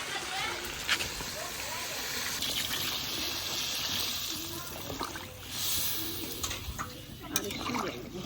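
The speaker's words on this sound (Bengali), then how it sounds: "এখন জল দিয়ে দেবো।" Water poured into a pot of browned goat meat curry on the stove, a faint, steady gushing pour that continues throughout with small splashes.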